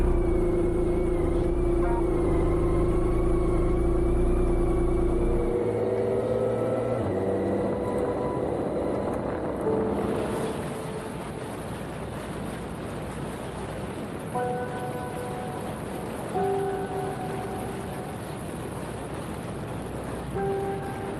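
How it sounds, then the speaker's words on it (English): Strong wind buffets a motorcycle on an open road during a group ride, a loud, steady broadband roar with engine rumble beneath that eases slightly after the midpoint. "Impossible to ride in this wind, just pushing it away."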